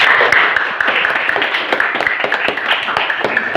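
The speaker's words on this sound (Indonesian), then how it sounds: "Ya, tepuk tangan semuanya." A classroom of students claps together, a loud, dense and continuous patter of many hands heard up close for a few seconds.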